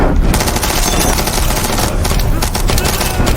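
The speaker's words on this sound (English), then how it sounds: "the troops immediately opened fire on Sam" Troops in a movie firing guns, a dense burst of rapid automatic gunfire with sharp cracks, loud and close, continuing almost without pause.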